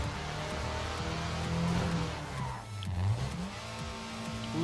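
A race car engine revs at full throttle in Trackmania Valley, a steady droning whine. The pitch rises, dips and climbs again as the car accelerates and shifts, staying close and continuous with no voices.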